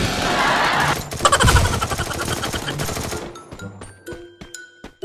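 Automatic gunfire in the Free Fire battle royale game, a dense loud burst of rapid shots for about three seconds, followed by sparser separate shots with someone talking excitedly over it.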